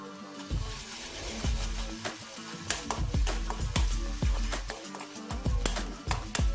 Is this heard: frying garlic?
yes